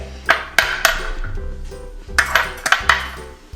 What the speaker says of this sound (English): So you're going to crack the egg.